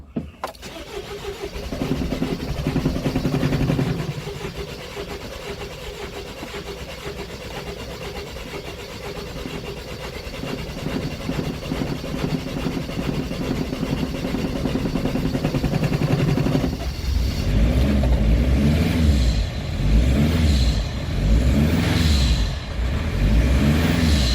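A cold Mercedes W903 Sprinter van engine cranks with the starter for a long, steady stretch, then catches and fires into a loud, lumpy running idle with rhythmic pulsing, close by and alone.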